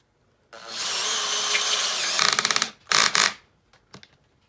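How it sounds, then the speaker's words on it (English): A Makita XPH07 brushless hammer drill with a Makita Impact X bit drives a screw at clutch setting 21: a close, steady motor whine for about two seconds, then rapid stuttering clutch ratchets and a few short bursts. "try and run a screw into it with the drill"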